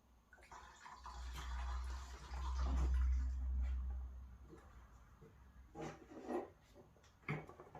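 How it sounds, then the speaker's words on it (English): Fuel bubbling in the fuel line of a Honda VTR Firestorm motorcycle with a vacuum lock fault and the engine running on one cylinder: a close, low gurgling rumble for a few seconds, then a few short wet bursts. "some kind of bubbling going on."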